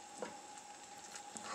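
Green mole sauce bubbles in a covered pot on the stove, giving soft, intermittent pops and gentle simmering hiss at low volume.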